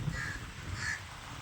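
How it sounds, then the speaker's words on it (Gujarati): Crows caw at Hamirsar lake in Bhuj, two distinct harsh caws spaced about half a second apart, moderately distant over a soft background hum. "કાગડાઓ તમને ક્યાંય ભુજમાં જોવા નહીં મળે ને એટલા કાગડાઓ તમને અહીંયા જોવા મળશે"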